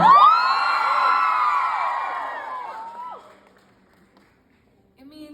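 A concert crowd in Chicago cheers, whoops and yells loudly for several seconds, the roar fading away into near silence before a voice starts to speak.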